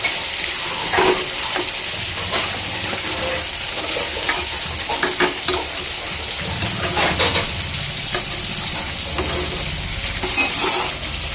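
Continuous sizzling and frying with intermittent scraping and stirring of ridge gourd and potato with spices in a pan, close and steady, no voices.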